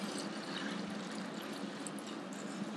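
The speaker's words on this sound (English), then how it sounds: "that is water that was boiling. It sat for 5 minutes. I'm now gonna pour it right directly over the top." Boiling-hot water poured from a stock pot over mint leaves into a bucket, a soft, continuous splashing stream at low volume with no talking.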